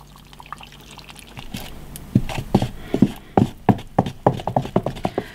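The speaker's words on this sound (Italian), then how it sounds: "Aggiungo l'acqua, faccio andare giù l'acqua." Water is poured into a cement mix of one and a half parts cement to one part water for a homemade kettlebell. It comes as a quick series of loud, close glugging splashes in an uneven rhythm.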